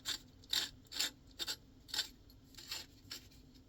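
A handle is screwed onto a small survival kit shovel, with repeated short rasping, grinding turns of the threaded metal parts, close and fairly quiet.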